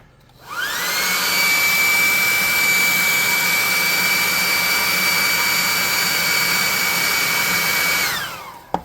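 A hot air gun blows steadily on a painted miniature ice mephit, a loud continuous whirring rush with a rising whine as it spins up, held evenly for about eight seconds before cutting off, no talking.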